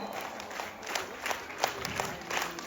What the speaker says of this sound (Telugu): మీరు తప్పకుండా స్పెషల్ క్లాప్స్ కొట్టాలి